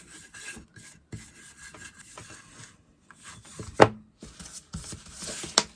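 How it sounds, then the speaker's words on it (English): Clear wax being rubbed by hand onto a small wooden faux bird house made from wood scraps, close and quiet, with irregular scuffing strokes and a couple of sharper knocks, with no talking. "I'm going to give this a coat of clear wax"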